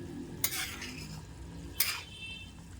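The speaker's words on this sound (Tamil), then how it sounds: "ரவா வறுத்து இருக்குது" Semolina roasting dry in a pan, stirred by a spatula: two distinct scraping sweeps stand out against a quiet, faint background.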